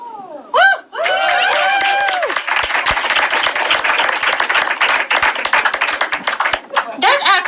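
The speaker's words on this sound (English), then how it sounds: "Can you clap louder?" Audience clapping at a stand-up comedy show, sharp close claps building into a brisk, sustained round of applause, preceded by a performer's whoops and laughter-like vocal bursts, with voices briefly audible at the start and end.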